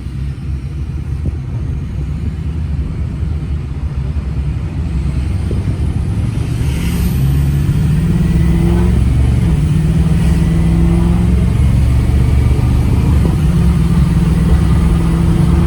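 A 2004 Ford F350 pickup's 6.0 liter Power Stroke turbo diesel engine idles with a deep, steady rumble close by, its pitch rising slightly midway as it revs gently, no voices over it.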